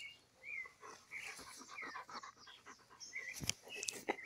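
A pet dog pants and whimpers close by outdoors near a drone being set up for takeoff, with quick breathy bursts, a few faint whines and some handling clatter around it.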